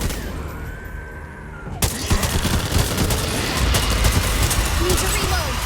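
Rapid gunfire bursts from Back 4 Blood, loud and continuous over a noisy zombie-shooter battle with dense impacts, while a player talks underneath.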